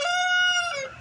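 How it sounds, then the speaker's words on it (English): Backyard chickens feeding on bread and honeydew melon let out a loud, close, drawn-out call lasting about a second, rising then falling away at the end. "The chickens are eating some bread and some that's honeydew melon that they're eating there."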